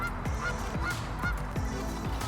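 Geese honking beside a lake, several sharp calls spaced at irregular intervals over a faint outdoor background, with no voices.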